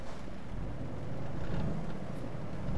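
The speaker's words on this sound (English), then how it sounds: "It's got a nice sounding engine actually," Steady low engine drone from a DAF XF Euro 6 truck driven in Euro Truck Simulator 2, a continuous mid-loud rumble heard alone with no talk.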